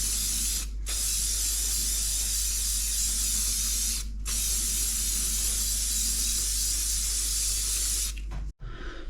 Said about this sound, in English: I'm going to give it a good coat of good old hairspray.